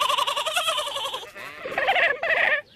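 A lamb in a cartoon bleats in several wavering, tremulous calls, loud and close, the first one long and the later ones shorter and separated by short gaps.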